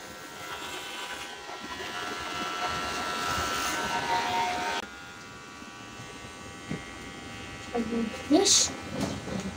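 Electric hair clippers buzz steadily through a home haircut for about five seconds, then stop; afterward faint handling noises and brief talk follow.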